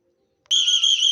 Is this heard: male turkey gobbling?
no